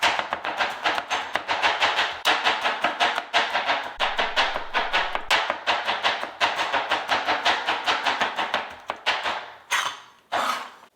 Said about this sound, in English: let's just give it a delicate chop because we're going to want to be able to just sprinkle it within the dia